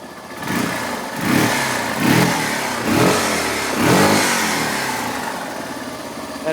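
A Yamaha BW200 Big Wheel motorcycle with a second muffler fitted runs near and steady, its engine repeatedly revving up in short bursts about once a second before dropping back to a smooth idle, with no talking.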